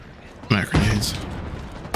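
Grenade explosions in a multiplayer shooter game: a sharp blast followed by a second boom, then a lingering rumble under game noise.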